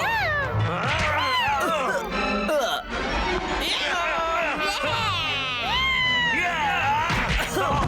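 A cartoon cat yowls and meows in a run of loud, wavering, whiny cries, layered over busy animated soundtrack effects and voices, with the calls sliding up and down in pitch throughout.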